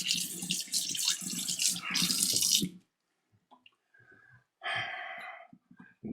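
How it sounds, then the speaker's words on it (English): Water runs from a kitchen tap while hands are washed during brisket trimming, a loud close gush that stops, then returns briefly after a pause. "Wash your hands."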